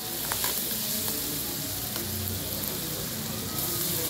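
Chorizo and cecina meats fry in hot oil with palillo added, giving a loud, steady, close sizzle throughout with a few light stirring clicks and no talking.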